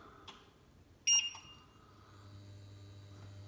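A Siemens EU611BEB2E induction hob gives one short, clear, high electronic beep when set to boost, followed by a faint steady hum in a quiet kitchen.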